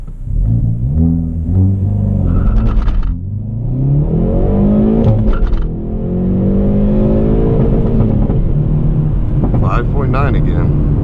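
A Hyundai Veloster N launching in launch mode for a 0-60 run on a flat road at altitude, its engine note rising through repeated gear pulls, loud and close from inside the cabin, with brief voices over it.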